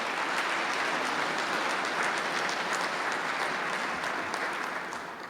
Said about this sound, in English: So we ought to give them a little round of applause